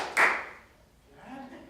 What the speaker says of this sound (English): I want you to clap on beat 4